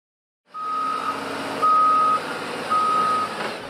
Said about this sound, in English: It's a noisy morning in Head of the Harbor. But all this racket is music to the ears of Tom Rubio.